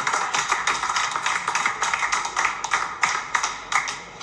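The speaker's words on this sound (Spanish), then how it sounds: "quiero que le demos un aplauso al señor Caremotor" A crowd claps in applause for señor Caremotor, with dense, steady hand claps carrying on at close range for several seconds. Now and then a louder clap stands out, and no voices are heard.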